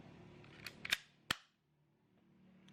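Spring-powered C6 plastic airsoft gun fired indoors, giving a few sharp, close snapping shots with quiet gaps between them and no talk.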